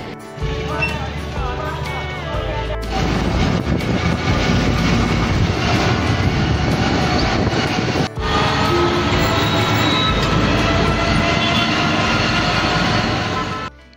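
A loud, continuous roar of a train, rumbling close by and filling the whole stretch with little change, plus a brief drop midway.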